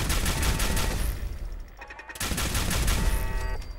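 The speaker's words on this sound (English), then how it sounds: "Alright, this gun's really powerful." Rapid gunfire from a powerful weapon in the video game Fallout 4, a dense sustained burst of shots that pauses briefly midway and then resumes, loud and close with no talking.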